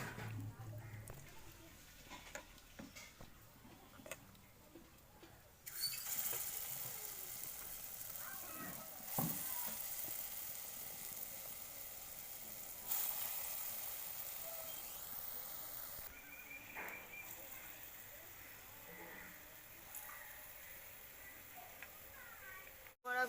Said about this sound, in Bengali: শাকগুলো ভাজা হয়ে গেছে